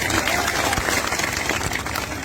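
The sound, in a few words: crowd applause at rally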